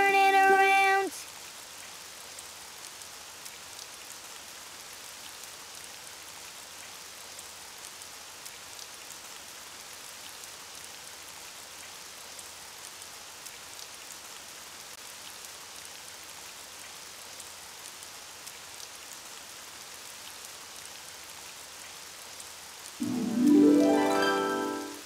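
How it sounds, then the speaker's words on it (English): Steady, soft rain falls continuously with a gentle patter of drops, with brief music-like tones at the start and end. "Oh, it's raining outside."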